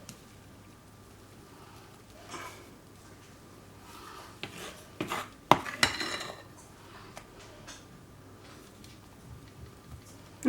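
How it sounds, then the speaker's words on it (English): Utensils scrape and clink against bowls while half of a mixture is spooned into a second bowl in a home kitchen, with scattered light knocks and clatters mostly in the middle stretch. "take half the ingredients and put it in another bowl"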